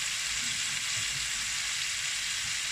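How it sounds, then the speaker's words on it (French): A chili pepper hits a hot sauté pan with a little hot water, giving a continuous, even, hissing sizzle that holds steady throughout with no talking. "vous prenez le piment, vous le mettez directement dans la poêle, dans la sauteuse"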